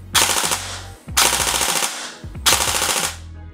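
An airsoft Bolt MP5 SD6 with BRSS recoil fires in full auto, three loud, close bursts of rapid mechanical clatter, each about a second long, separated by brief pauses.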